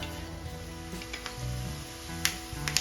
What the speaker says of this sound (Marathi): आता या स्टेजला आपल्याला दगड फुल ऍड करून घ्यायचा आहे म्हणजे ऑइलमध्ये छान फ्लेवर येईल